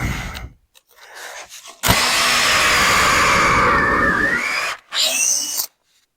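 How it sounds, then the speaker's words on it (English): A power drill driving screws into cabinet parts whirs loudly for about three seconds, winding down in pitch, then gives a second short burst after brief quieter handling noises. "And drill."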